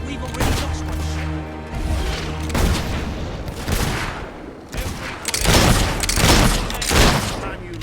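Mortar fire and explosions in the video game Fable 3 rumble as repeated loud booms and blasts in a dense battle din, with voices shouting over the chaos.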